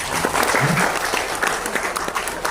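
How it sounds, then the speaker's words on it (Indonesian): Audience applause at an Indonesian motivational seminar, a dense burst of many hands clapping steadily throughout, with a faint murmur of voices underneath. "Tepuk tangan untuk Anda."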